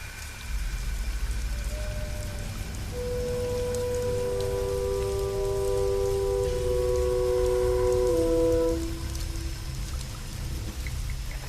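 Steady rain pours down in a constant hiss with a faint melody drifting over it.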